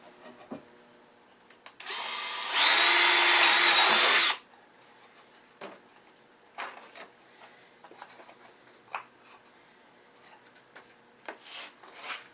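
A power drill whirs loudly for about two seconds, drilling a hole in a belt/spindle sander, then stops, followed by scattered knocks and light clatter.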